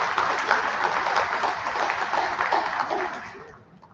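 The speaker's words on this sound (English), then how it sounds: "let's give our families and support systems a big round of applause" Sustained crowd applause at an athletic awards ceremony, a dense, steady wash of clapping from a large audience that holds for several seconds before starting to fade near the end.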